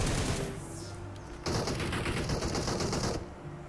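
Rapid gunfire bursts in a PUBG Mobile fight in the School Apartments area of Erangel, a dense crackling volley starting about a second and a half in and continuing steadily, loud and close, with no talk over it.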